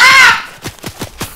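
A crow caws four times in quick succession, a loud close rhythmic series of harsh calls that follows a brief squealing tone.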